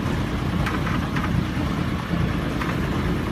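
Cars driving across a bridge, heard from a sailboat motoring slowly at about 3 knots on the Alligator River of the ICW, a steady low engine drone with faint passing swells of traffic.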